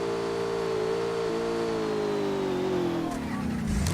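Car engine in the Rules of Survival battle royale game revs steadily at a high pitch, then winds down near the end, loud and continuous with game sounds around it.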